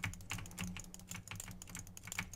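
A computer keyboard with stuck keys clatters with rapid, uneven keystrokes during a Minecraft PvP duel on Epicube. The typing is quiet and close, with no voices.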